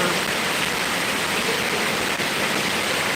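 Heavy rain pours down in a dense, even hiss that holds steady and close, with no pauses or voices.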